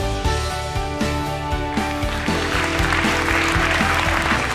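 Audience applause at an award ceremony honouring women, with a patter of clapping swelling under loud rhythmic stage music that plays throughout.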